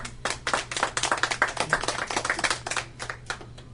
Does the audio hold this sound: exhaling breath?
no